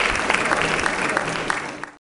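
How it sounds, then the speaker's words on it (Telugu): An audience at a Christian sermon gathering claps together in a dense, lively burst that fades out at the end, heard close and loud. "దేవుడి బిడ్డ విశ్వసిస్తే చప్పట్లు కొట్టు"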